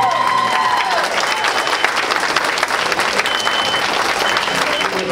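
Guests at a sweet fifteen party cheering on the family's dance, loud, dense crowd applause sustained from start to finish, with music tones and voices mixed in beneath the clapping.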